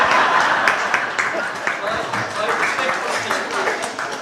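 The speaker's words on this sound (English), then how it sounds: "a big round of applause for our guests today" An audience at an activism talk gives its guests a sustained round of applause, a thick spread of clapping that fades slightly, with voices mixed in underneath.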